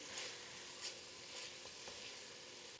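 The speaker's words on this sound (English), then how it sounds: "Next, we're going to add the onions and the bell pepper. And then it says to saute this until the vegetables start to brown." Onions and bell pepper sautéing in a pan for caramelization, a soft, even sizzle with a few gentle stirring scrapes, fairly quiet and close.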